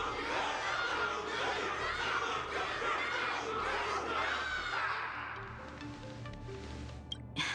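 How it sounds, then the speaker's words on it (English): A crowd cheers and shouts in a battle arena scene from the game Honkai Star Rail, loud and dense at first, then thinning after about five seconds to a quieter murmur with a brief sharp sound near the end. "Can't you hear? Everyone's cheering for you"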